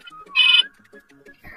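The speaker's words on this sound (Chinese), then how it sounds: "那我先给你的妈妈打个电话吧" A telephone ringtone chirps once briefly amid quiet cartoon-style background sounds before a call, a short bright electronic burst.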